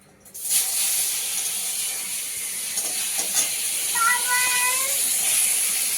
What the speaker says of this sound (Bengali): এদিকে উচ্ছে ভাজা হচ্ছে